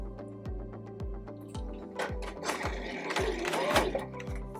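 A sewing machine stitches rows along the seams of a patchwork quilted panel for a zipper pouch, its needle thumping in a steady rhythm of about two strokes per second, close and moderately loud, with faint handling noise and no speech.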